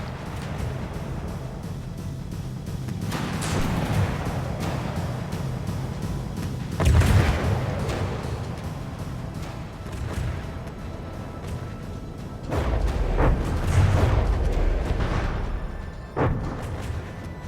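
Heavy warship guns in a naval battle game fire in a few loud, deep booms about every few seconds, with a low rumbling bed of engine and water noise between the shots.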